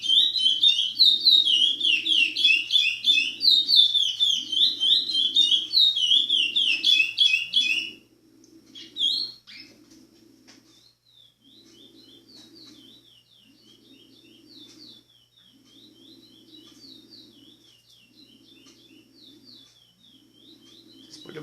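A curió, or lesser seed-finch, sings in rapid whistled phrases against a recorded song playing in the background, a repeated low churring beat running beneath. The bird sings loudly for several seconds, then falls mostly quiet while the recording continues softly.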